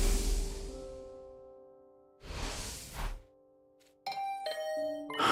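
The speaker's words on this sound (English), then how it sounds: "Was that my doorbell?" Doorbell chimes in the video game The Hundred Line: two loud, ringing tones spaced about two seconds apart, followed by a brighter cluster of bell-like notes near the end.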